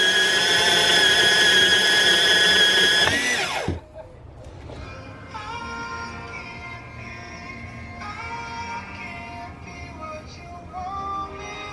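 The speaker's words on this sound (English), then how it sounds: "Cutting aluminum with a cutoff disc is no fun" An abrasive cutoff disc slices through aluminum end pieces for an EJ coupe engine catch can, a loud, steady high whine for about three seconds before the blade spins down, leaving quieter mechanical ringing and clatter afterward.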